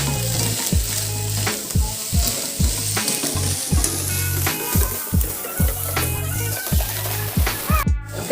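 Indomie noodles fry in oil in a pan with a continuous loud sizzle, broken by regular low thuds and scrapes as the noodles are stirred and tossed.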